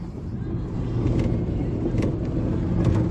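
A truck hauling buckets in its bed drives steadily along, a continuous low engine and road rumble with faint rattles throughout.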